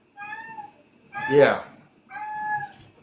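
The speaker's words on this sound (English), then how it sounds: "that's my cat wanting outside." A house cat meows insistently to be let outside, three drawn-out meows with short gaps, the middle one loudest and harshest, fairly close and clear, with a brief spoken word nearby.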